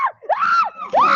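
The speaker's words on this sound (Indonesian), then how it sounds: "Oh, jangan teriak-teriak lah." A person screams in a series of high, rising-and-falling shrieks, three loud wails in quick succession with brief gaps, close and unaccompanied by other sounds.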